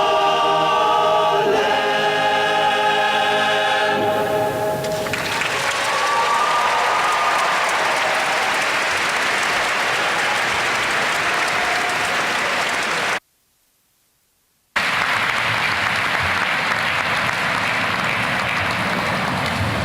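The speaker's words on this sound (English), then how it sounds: "Let's give them another round of applause." Loud, sustained applause from a large crowd at a university convocation, clapping densely throughout, with a brief cut to silence partway before the clapping resumes.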